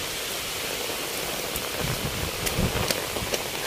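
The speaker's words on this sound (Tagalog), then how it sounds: "Naabutan kami ng ulan." Rain falls steadily outdoors with a dense, even hiss and a few sharper drops spattering nearby.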